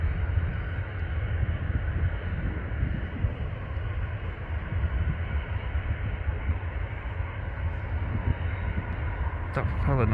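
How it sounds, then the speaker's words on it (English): Loganair propeller airplane at Manchester Airport, a broad low rumble and whir of engines droning steadily in the background at moderate distance, heard outdoors from a viewing park with a voice talking over it. "That propeller noise you can hear in the background is a Logan Air."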